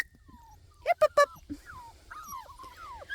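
A seven-week-old puppy whimpers and whines in a series of high, wavering cries following a few short yips, close by, while a person speaks softly.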